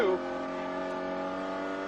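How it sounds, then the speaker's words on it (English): Onboard a 1995 Porsche 944 touring race car, the engine drones at high, steady revs under hard acceleration, loud and continuous with a brief pitch drop at the very start. "now accelerating up onto the short chute. Goes up one more gear, now on the brakes, drops a gear for the run into the top of the S's"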